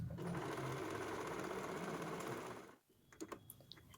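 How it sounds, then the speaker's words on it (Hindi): An electric sewing machine runs in one steady, continuous whir as it stitches a folded neckline strip on a kurti, then stops abruptly. A few light clicks and handling sounds follow. No one speaks. "अब हम इस पट्टी को ऊपर की तरफ इस पर फ़ोल्ड करके सिलाई लगा देंगे।"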